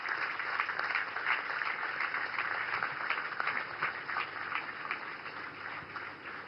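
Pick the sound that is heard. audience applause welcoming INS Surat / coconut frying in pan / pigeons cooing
audience applause welcoming INS Surat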